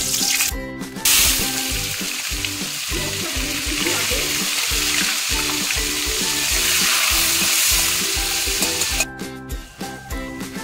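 Cumin, dried red chillies, cloves and other whole garam masala spluttering in hot mustard oil for a home-style chicken kosha, a loud continuous sizzle broken by rhythmic scraping strokes of a spatula, no talking.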